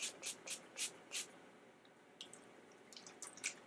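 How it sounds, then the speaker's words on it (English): A setting spray bottle is pumped onto a face in five quick hissing bursts, close and crisp, followed by quieter faint dabbing and soft clicks. "let's go ahead and set using my all-nighter setting spray"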